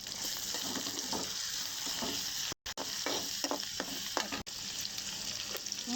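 Onions and chillies frying in oil, a loud, dense crackling sizzle broken by stirring scrapes and one brief dropout, heard up close with no speech.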